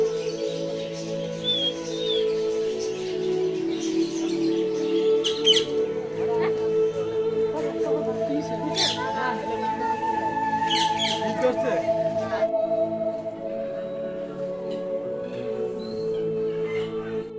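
Birds such as hill mynas, great hornbills, parakeets and macaws calling from aviary cages at the Bangladesh National Zoo in Mirpur, Dhaka, heard as scattered chirps and tweets over a steady hum of crowd and background noise.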